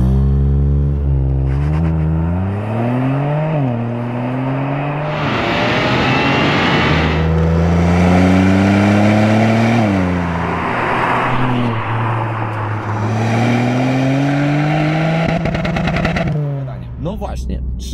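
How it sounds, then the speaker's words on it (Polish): A Ford Puma ST's three-cylinder engine revs hard, its pitch climbing and falling through several loud, close sweeps before cutting off. "3-cylindrowa jednostka w samochodzie sportowym, no to posłuchajcie."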